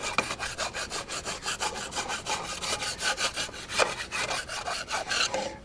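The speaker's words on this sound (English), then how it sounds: "I want to run this round file through there a few times just to make sure" A round file rasps back and forth inside a wooden push pole, producing a rapid run of rhythmic scraping strokes, close and fairly loud, with no voices.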